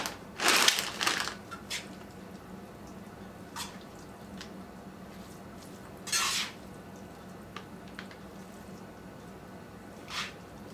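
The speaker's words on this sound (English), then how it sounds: "I'm going to put about a cup of shredded cheese, stir it around in there." Shredded cheese being stirred into a Southern beef casserole, giving a few soft squishing, crunching bursts spaced across the stretch with quiet gaps between, fairly close and faint, no talking.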